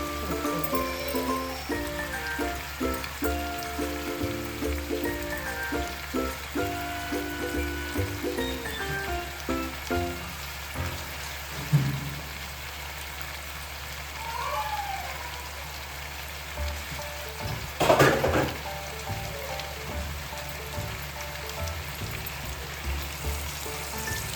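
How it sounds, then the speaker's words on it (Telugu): Steady hiss and crackle of marinated chicken bones frying in a home-kitchen pan, a continuous rain-like sizzle with occasional louder pops, under faint tonal background sound. "ఇట్లా వేయించుకోవాలి"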